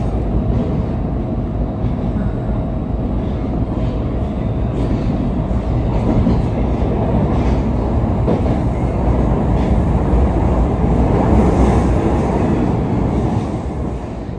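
A light rail train rolls through the Buenos Aires suburbs in the early afternoon, its steady low rumble and rail clatter filling the ride continuously at close range, with no talk heard.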